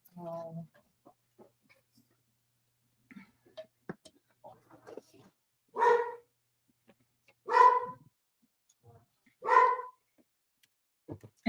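Several dogs bark off camera in loud, spaced bursts, three strong barks standing out late in the stretch, with quieter scattered sounds and brief voices between them.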